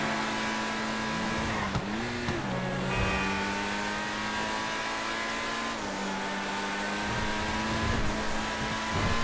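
A super car engine in GTA V holding a steady high drone, with quick revs and gear shifts rising and falling near the start and again midway, close and continuous with no talking.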